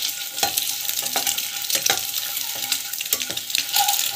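Sprouted chana dry-roasting in a pan without salt makes a dry crackle broken by repeated scraping strokes of a spoon as the grains are stirred, close and steady for a few seconds.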